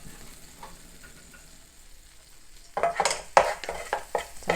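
Meat for bibimbap cooks in a pan as seasoning goes in: a quiet, low sizzle at first, then loud bursts of sizzling and scraping from stirring utensils against the pan in irregular strokes, with no talking.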